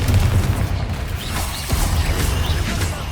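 A Confringo spell in Hogwarts Legacy sets off a loud, close blast with a rumbling, crashing burst that fills the moment, followed by a brief clattering tail.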